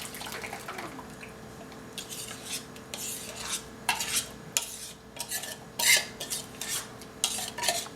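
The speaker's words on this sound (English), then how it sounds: "you want to just mix it up inside the pot" Raw tri tip meat is stirred and mixed inside a pot, with wet squelching and scattered scraping knocks against the pot sides, close and intermittent.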